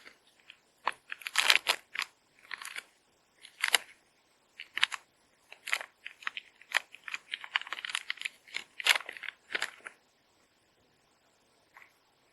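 Packaging of a compressed Israeli bandage (type FCP01) torn open by hand, giving a string of sharp crinkling rips and crackles in irregular bursts, close up, then fading to silence.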